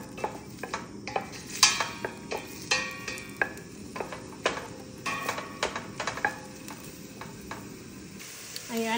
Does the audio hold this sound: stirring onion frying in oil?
yes